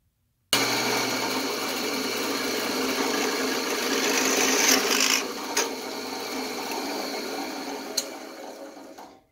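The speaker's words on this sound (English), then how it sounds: "I'm going to turn on the machine and I'm going to drill right through this with very little trouble." A drill press whirs steadily for several seconds as it bores through a brass oil lamp part wrapped in folded cloth. The close mechanical hum rises slightly, then tapers off with a couple of sharp clicks before stopping.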